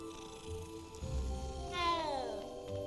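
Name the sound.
cat meowing in Hogwarts Legacy video game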